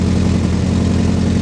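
A 1965 Ford Galaxie idles with a low, throbbing rumble, its rhythm slightly uneven, heard close and loud for a moment with no voices.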